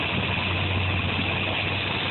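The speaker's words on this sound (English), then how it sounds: "Sitting here idling away at about 650 RPM." A car engine idles steadily at about 650 RPM with a strong vacuum reading, giving a continuous, even low hum with a droning tone, close and alone.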